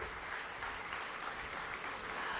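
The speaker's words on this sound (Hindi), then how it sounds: "एक बार तालियों से हम उनका भी अभिवादन करेंगे" An audience at a Swaminarayan Bhagavat katha gathering claps to welcome a visiting MP, a dense, even patter of applause heard from some distance and sustained throughout.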